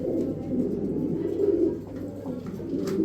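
Continuous low cooing from a group of pigeons nearby, soft throaty warbles blending together without pause.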